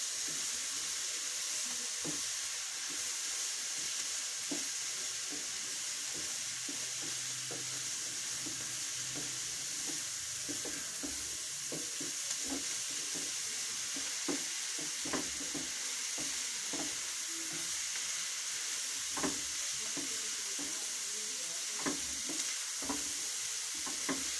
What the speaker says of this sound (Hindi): अच्छे तरीके से हम मसालों को भी भून लेंगे।